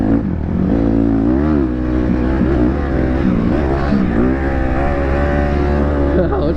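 Off-road vehicle ripping along a bumpy dirt trail, its engine droning loud and steady throughout with rumbling shifts in pitch as it bounces, and excited voices mixed over the motor.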